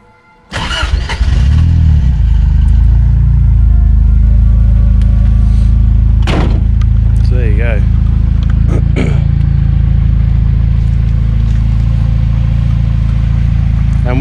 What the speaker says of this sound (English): it cold starts alright too